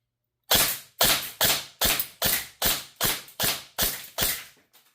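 An airsoft Vector gun fires nine sharp, evenly spaced shots in quick succession, each a crisp loud crack with a short decay, followed by a fainter final click.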